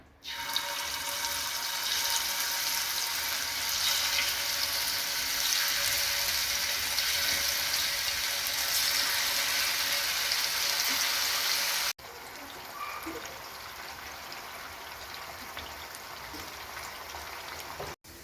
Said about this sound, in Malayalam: ഇപ്പം എണ്ണ നല്ലതുപോലെ ചൂടായിട്ടുണ്ട് നമുക്കിനി മീനിട്ട് വറുത്തെടുക്കാം